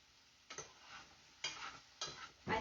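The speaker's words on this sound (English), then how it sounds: "So we're just going to keep stirring these." Apples being stirred in a pot while cooking down for apple jam, with three or four distinct scraping, squelching strokes spaced about half a second to a second apart, close and fairly quiet.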